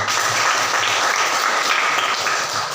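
Applause from a classroom of students after their group presentations in a history lesson, a steady dense patter of many hands clapping filling the room without pause.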